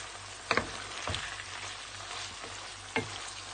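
Minced pork stir-fries with holy basil in a hot pan, giving a steady bright sizzle with a few sharp spatula scrapes and tosses standing out, close and without speech.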